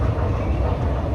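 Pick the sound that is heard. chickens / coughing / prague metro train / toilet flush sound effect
prague metro train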